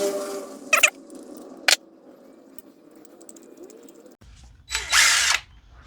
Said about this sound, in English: you can take a 5mm hex bit and run them all the way in.